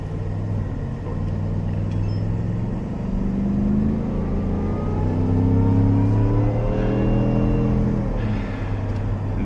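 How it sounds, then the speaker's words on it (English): A supercharged 775 hp Shelby F-150 pickup with an aftermarket exhaust revs loudly and close by, the deep engine rumble rising and falling in pitch through repeated throttle blips, with no one speaking. "The exhaust with the Supercharger one, perfect combination."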